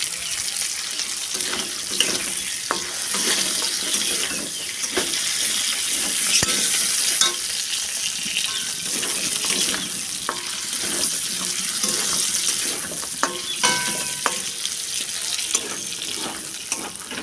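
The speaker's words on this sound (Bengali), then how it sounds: "এই যে এদিকে মাংসটা ভাজা হোক" Meat frying in oil in a home kitchen, a steady, loud sizzle running throughout with scattered clinks and scraping of a utensil stirring in the pan.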